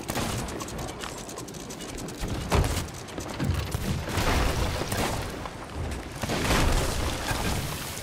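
A blunderbomb explodes in a chaotic video game fight, with rapid bursts of gunfire and booming blasts packed together at steady loudness, the heaviest bangs arriving near the middle and the end.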